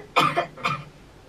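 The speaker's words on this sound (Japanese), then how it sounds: "今もう後半になってから結構ガチめの咳出てきてるんで心配だよ" A singer coughs twice during a recording session, two short harsh bursts about half a second apart, close to the microphone with no talking.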